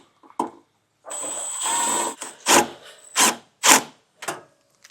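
A power driver with a 1/4-inch bit sinks a self-tapping screw while a Curt T-Connector wiring harness is installed on a 2024 Subaru: a sustained whirring run with a thin whine, then several short, close, loud bursts of driving, with no talk.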